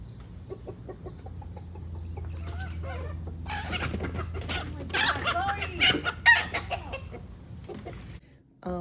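Two hens cluck and squawk continuously, fighting and growing louder and more agitated midway with sharp flurried calls, then cut off abruptly near the end.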